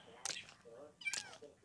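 Two short cat meows from the Minecraft video game sound close and clear, about a second apart.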